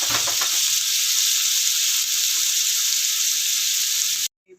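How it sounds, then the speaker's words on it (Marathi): Paneer sizzles and hisses loudly in a hot pan, a steady frying crackle with a few stirring knocks early on, cutting off abruptly at the end. "तर बघा मी फ्राय करून घेते"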